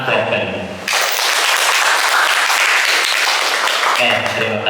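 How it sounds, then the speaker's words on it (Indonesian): A classroom of automotive engineering students gives a loud, dense round of applause lasting nearly four seconds, framed by a teacher talking just before and right after. "Kita kasih tepuk tangan buat kalian."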